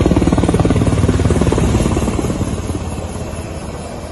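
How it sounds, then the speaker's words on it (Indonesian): A helicopter flying over a wildfire in Palangkaraya, dropping water bombs, thumps in a loud, steady rotor chop that gradually fades as the aircraft moves away. "helikopter bertubi-tubi menjatuhkan bom air untuk membantu tim yang melakukan pemadaman di darat"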